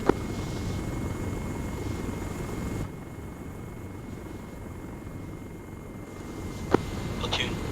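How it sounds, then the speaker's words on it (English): A helicopter with a damaged main rotor drones in a video game, a steady low engine roar with a thin continuous warning tone above it and a couple of sharp clicks near the end. "The main rotor is a little damaged, so it's the helicopter's screaming about it."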